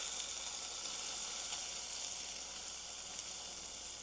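Chilli garlic chicken frying in a pan gives a faint, even hiss of oil that runs steadily without any stirring strokes or speech.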